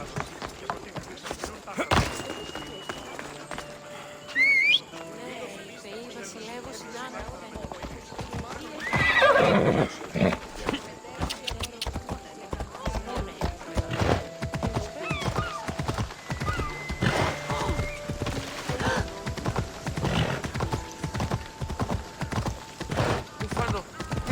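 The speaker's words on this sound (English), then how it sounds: "I'm just using the horse because I think it would be faster." A horse in the video game Assassin's Creed Odyssey gallops with rapid, rhythmic hoof clip-clops and lets out loud neighs and whinnies, mixed with game sounds and someone talking over it.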